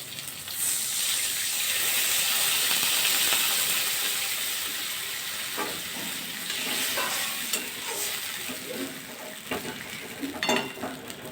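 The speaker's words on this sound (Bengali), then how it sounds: "বেগুনটা অল্প করে ভাজা করে নিয়ে" Eggplant pieces fry in a pan in a little oil, a bright hissing sizzle that swells then eases, with occasional stirring knocks up close.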